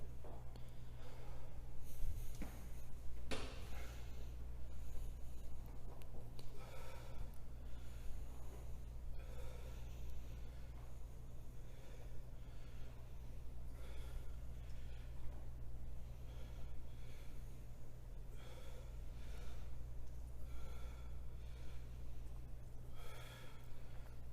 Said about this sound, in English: This is how you should be breathing at the end of every set.